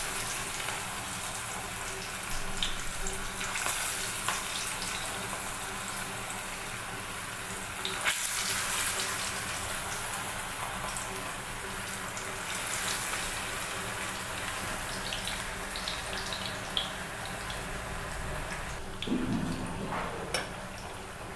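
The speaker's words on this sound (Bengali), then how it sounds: "তেলটা গরম হয়ে গেছে, আমি এখন একের পর এক কাবাবগুলো দিয়ে দিচ্ছি।" Jackfruit kebabs sizzle in hot oil, a steady close crackle and hiss running throughout with small pops and bursts, no talking over it.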